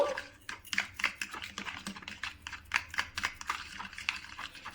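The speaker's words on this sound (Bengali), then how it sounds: "এবার আমি ভালো করে মিশিয়ে নেব" Yogurt stirred by hand with salt and sugar for papdi chaat, giving a run of soft, quick scraping and tapping clicks against the bowl at close range, with no talk over it.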